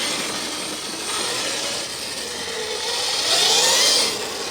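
A Primal RC Raminator monster truck with a 1000-amp MGM controller and 53 HP electric motor takes off, giving a steady rushing whir that swells into a louder high whine near the end, with no talking.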